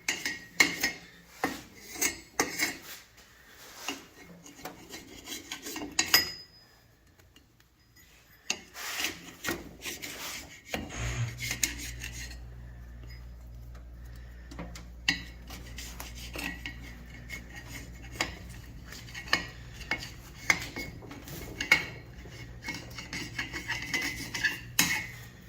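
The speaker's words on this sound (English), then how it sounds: "this is a carbide tool we got off Amazon. And we're going to use to scrape off the gasket real quick and simple." A carbide scraper rasps gasket material off a Subaru cylinder head in repeated short, gritty scraping strokes, close and uneven, with pauses and a low steady hum starting partway through.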